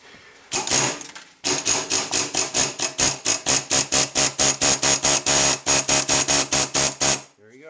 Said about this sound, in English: we'll try to use a little nasty baby air hammer to try to kind of hammer along